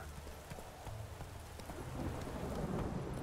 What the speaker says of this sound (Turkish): Yemin ederim burada da hiç yağmur durmuyor ya.